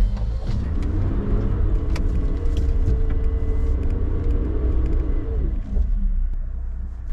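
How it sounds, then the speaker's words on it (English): A Suzuki Jimny Sierra reverses out of a muddy bog in low second gear, its engine droning loud and steady with a deep strained rumble that eases off near the end. "Here we are, in the Jimny, and we're reversing out of a bog situation."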